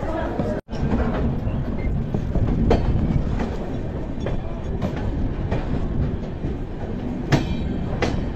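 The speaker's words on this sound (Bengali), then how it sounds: "একটু আগে কিন্তু ট্রেনটা ছেড়ে দিল, 10 মিনিট আর হোল্ড করলো না।" A passenger train on the Kolkata to Shimla route pulls out of Patna Junction station with a continuous low rumble and rhythmic clatter of wheels over rail joints, close and steady.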